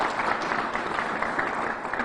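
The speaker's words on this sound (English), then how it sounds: "Give them a round of applause." Audience applause at an outdoor groundbreaking press conference for a community center in Irondequoit, a steady, fairly loud patter of many hands clapping without a break.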